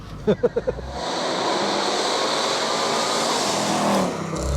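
A 780 bhp Weistec-tuned Mercedes C63 runs on an automatic gearbox, and its engine note swells into a loud, sustained broadband roar after a few brief thumps. The sound is heard from inside the car with no talk over it.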